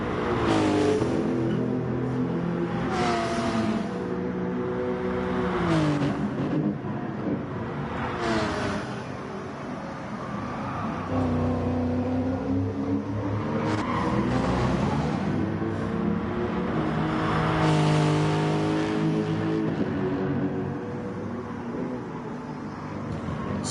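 Race car engine in the video game GT Sport, revving and shifting continuously through a lap with rising and falling pitch sweeps, loud and steady with no talk.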